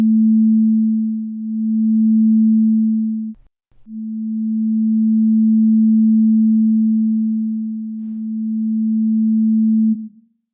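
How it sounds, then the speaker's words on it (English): Two pure, steady tones sound together at nearly the same pitch, so the combined note pulses in loudness. After a brief break the swells grow longer and slower as the pitches draw closer, ending in an almost even hum. "The beat gets slower as the two tones get closer together."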